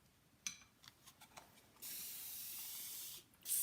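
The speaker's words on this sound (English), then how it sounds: "spraying it against the breeze" A spray paint can hisses onto a mini trumeau mirror outdoors, a few soft clicks and rattles before one steady burst of spray lasting over a second, then a short second spurt.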